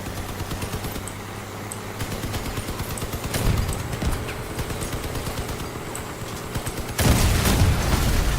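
Cannon shells fire in the vehicle-combat video game Crossout amid continuous dense game noise, with heavier bursts near the start, around the middle and a loud surge toward the end.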